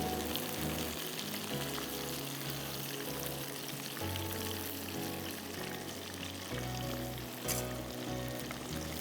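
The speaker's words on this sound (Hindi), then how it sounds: "देखिए मैं अपनी चिली बाइट्स को डीप फ्राई कर रही हूँ।" Chilli garlic bites deep frying in a single layer of hot oil, a steady bubbling sizzle running continuously under a background musical hum, with no talking.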